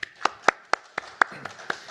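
A few people clap for a speaker at a peace academic conference, a sparse, evenly spaced series of about eight distinct hand claps, close and fairly crisp.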